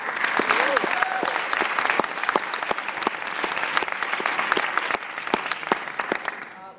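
An audience claps at a school music concert, a dense burst of applause with distinct individual claps that swells and then tapers off.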